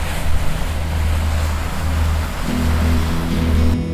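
Boat motoring out of St. Catherine Sound in Georgia onto Atlantic Ocean waves, a steady low engine rumble with rushing water and wind noise, constant and fairly loud with no voices.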